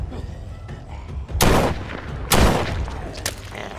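Gunfire in The Walking Dead: Saints and Sinners: three loud, sharp shots spaced about a second apart over a low rumbling background, close and punchy.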